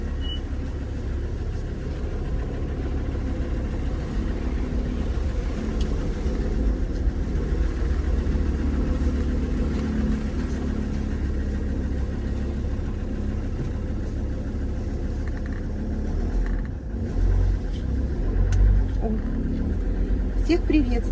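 A car engine runs steadily throughout as the car pulls away. It keeps up a low, constant rumble inside the cabin, and a faint bump comes near the end.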